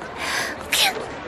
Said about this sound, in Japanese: そのくしゃみ、治らないね。